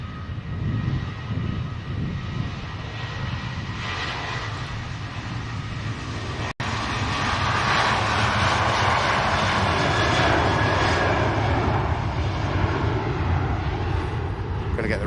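Ryanair jet airliner near Manchester Airport, a broad roaring engine rumble that stays steady and grows fuller partway through, heard at moderate distance with people talking over it.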